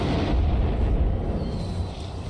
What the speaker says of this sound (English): You don't only hear the gunshot, you hear the blast wave rushing through the corridor itself.